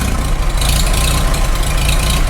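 A rebuilt Farmall H tractor engine idling close by, a loud, steady low rumble with an even, slightly rough firing beat and no voices.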